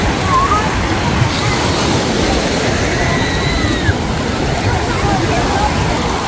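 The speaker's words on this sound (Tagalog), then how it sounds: "Malalaki ang alon." Large, rough sea waves wash continuously onto the beach at Tantura, Israel, a steady broadband roar of surf and water with faint voices in the background.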